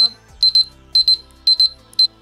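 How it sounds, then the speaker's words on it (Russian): A bright electronic timer beeps in quick pairs, repeating four times at a steady rhythm, loud and close with near silence between, during a manicure. "Сработал таймер"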